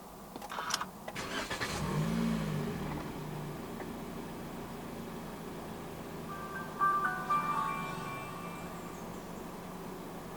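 A 2020 Toyota Corolla 1.8 G is started with its push button, and the engine catches with a short burst before settling into a steady idle.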